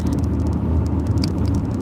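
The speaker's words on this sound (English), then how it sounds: "Let me merge in the traffic right quick." Car engine and road rumble at highway speed while merging into traffic, with a truck close behind; a steady, loud low drone runs throughout without pause.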